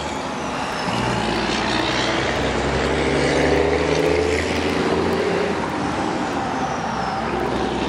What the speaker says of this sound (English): I think it's a logging truck.